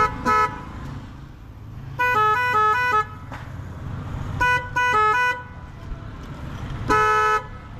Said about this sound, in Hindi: ये फोर व्हीलर का हॉर्न है, मैंने इस पे लगा दिया।